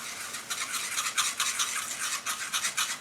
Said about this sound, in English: you're just wanting to whisk out any lumps and bumps in the sauce